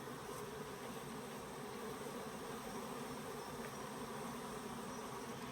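Honeybees fly back to the entrance of a nuc made from a Mini-Plus hive, producing a dense, continuous buzzing drone, close and even in level, with no voices over it.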